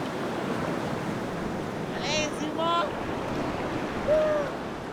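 Big ocean waves breaking at the Sassandra surf spot in Côte d'Ivoire, a steady wash of surf and wind with a few faint whistles or calls on top.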